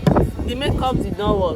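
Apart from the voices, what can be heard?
beach wind blowing into the microphone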